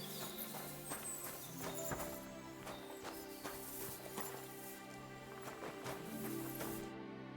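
A horse walking in Kingdom Come Deliverance 2, its hooves clip-clopping in a steady, fairly regular rhythm over a soft background hum, close but quiet.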